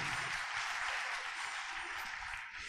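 A church congregation claps loudly together in a dense, sustained round of applause that tapers slightly at the end.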